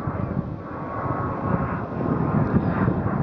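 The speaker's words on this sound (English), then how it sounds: "Sorry about the plane flying overhead." A steady low roar of a plane passing overhead by the Neebing River, broad and rumbling, with some wind noise on the microphone and no talking.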